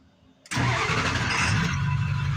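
A Ford 7.3L Power Stroke diesel truck engine, just repaired after a crank-no-start fault, cranks briefly and catches at once, settling into a loud, steady rumbling idle close by.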